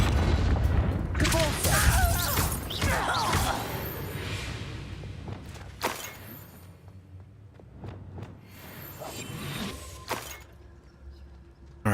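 Descendo spell effect in the Hogwarts Legacy video game, with a burst of booming, whooshing magic impacts and crashes, then several sharp cracks and shattering hits over ambient game noise.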